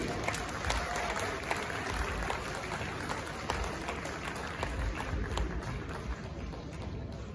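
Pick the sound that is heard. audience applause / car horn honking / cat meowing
audience applause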